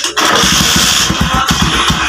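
A motorcycle engine with freshly adjusted valve tappets fires up and settles into a steady, close, loud idle with a regular low pulsing beat.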